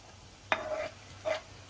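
Two short bursts of sizzling as garlic is stirred in hot ghee, quiet and close, with no talking.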